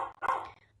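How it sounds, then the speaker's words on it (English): A dog barks indoors, a short burst of a couple of close, fairly loud barks with no talking over them. "Sorry about the barking again."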